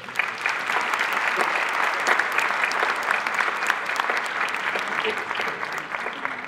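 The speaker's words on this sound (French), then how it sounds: "on peut applaudir François." An audience applauds steadily during a mayor's New Year's greetings ceremony. The dense clapping lasts about six seconds at an even level.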